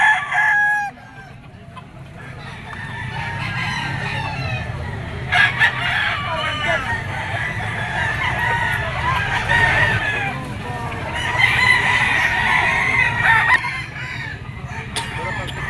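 Roosters at a stag market crow loudly and repeatedly over a constant background of clucking fowl, with bursts of crowing rising above the din nearby.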